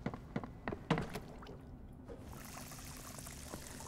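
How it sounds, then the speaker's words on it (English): Water being poured in the game Crime Scene Cleaner: a few knocks and splashes at first, then a steady soft trickling stream that runs on to the end. "Let's get more water."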